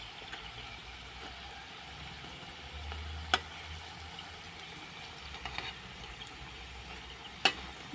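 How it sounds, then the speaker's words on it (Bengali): Bora fritters frying in hot oil, a faint steady sizzle with a low rumble underneath and a couple of sharp clinks, no talking. "একবার নামিয়ে নিয়েছি আর একবার ভেজে নিচ্ছি"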